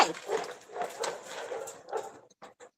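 Rescue dogs whimpering and yipping close by in a series of short, uneven whines and cries that taper off into a few faint yelps at the end.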